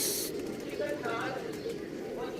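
A pigeon coos close by while someone talks steadily over it throughout.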